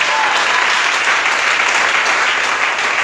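A church congregation breaks into loud, sustained applause, dense clapping from many hands filling the room evenly from start to finish.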